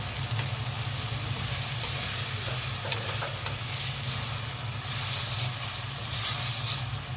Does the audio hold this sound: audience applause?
no